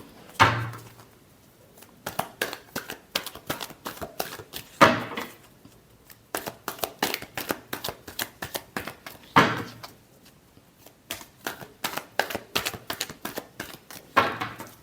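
Tarot cards are shuffled in quick, crisp bursts of riffling clicks and slaps, with a few louder snaps marking each new round of shuffling, close and clear with no talking.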